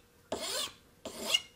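Two short rasping strokes of a file or rasp scraping across wood, rounding the end of a wooden piece for a mortise gauge, close and fairly quiet, with a brief pause between them.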